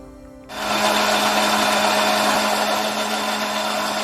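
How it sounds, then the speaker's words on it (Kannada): A kitchen mixer grinder churns masala paste for Kshatriya-style mutton biryani. After a brief quiet start, the motor kicks in abruptly and runs as a loud, steady, high whir with no talking. "ಇದಿಷ್ಟನ್ನು ಕೂಡ ಮಿಕ್ಸಿಯಲ್ಲಿ ಹಾಕಿ ರುಬ್ಕೊಳ್ಳೋಣ."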